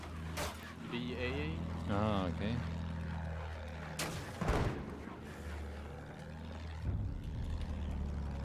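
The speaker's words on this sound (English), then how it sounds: "Plane coming from spawn." A propeller plane droning in Battlefield 1, a steady low engine hum heard under people talking, with bursts of gunfire and explosions going off around it.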